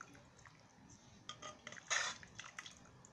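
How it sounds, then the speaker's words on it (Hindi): Potato and tomato curry is spooned from a pot into a bowl, with soft metal clinks and scrapes of utensil on cookware, quiet and close, a little louder near the middle. "इसे एक बाउल में डालेंगे"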